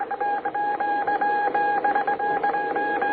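A telegraph key taps out a message in rapid, steady electronic tone pulses beeping in quick succession, a clipped tapping rhythm, close and moderately loud.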